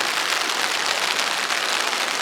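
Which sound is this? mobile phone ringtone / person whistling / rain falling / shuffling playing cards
rain falling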